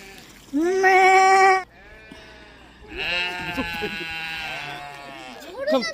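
A sheep lets out a loud, close bleat, then more wavering sheep bleats follow at a farm, mixed with people talking and laughing nearby.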